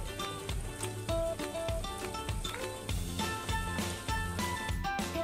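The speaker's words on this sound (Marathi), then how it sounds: "तर हे बघा असं आता हे व्यवस्थित फ्राय करत राहायचं।" Mixed vegetables frying in a pan for veg crispy, a busy continuous sizzle with dense crackling pops throughout, close and moderately loud, no talk.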